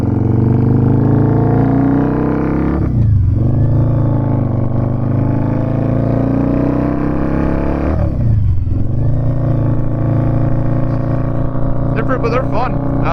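A 2006 Harley-Davidson V-Rod motorcycle engine idles with a steady loud rumble and is blipped twice, each rev rising sharply and falling back, heard close up with a brief clatter near the end.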